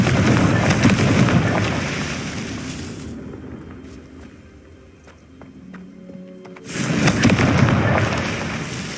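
Confringo fire spells explode in the Hogwarts Legacy video game: loud roaring blasts fill the opening seconds, fade to a quieter lull with small crackles, then another burst erupts near the end.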